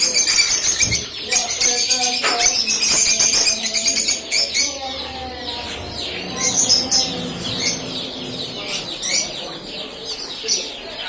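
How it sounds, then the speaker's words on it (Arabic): Lovebirds kept among caged birds chirp and tweet loudly and continuously at close range, a dense overlapping chatter of sharp calls with occasional clucking and wing flutters mixed in. "هون طيور الحب."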